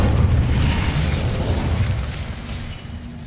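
Incendio fire spell from Hogwarts Legacy going off as a loud, deep boom that rolls and slowly fades over a few seconds, with no voices over it.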